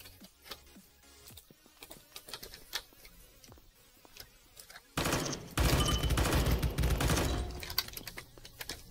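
Gunfire in the blocky voxiom.io shooter: rapid clicky shots crackle in scattered bursts, then a loud sustained volley of automatic fire erupts midway and keeps hammering for several seconds.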